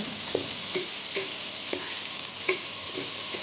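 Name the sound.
onion and cumin frying in a pan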